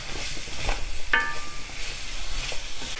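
Sliced apples are stirred through melted butter in a pan. A brief sizzle sits under scraping stir sounds, and one sharp metallic clink from a utensil on the pan cuts through near the middle.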